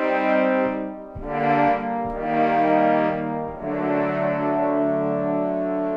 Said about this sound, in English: So if I'm playing a 4-note chord, that's the sound of 12 trombones.